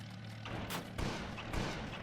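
Heavy 500 kg bombs exploding in the Warplanes Inc video game, two broad booming blasts about half a second apart over a steady low engine drone, loud and close.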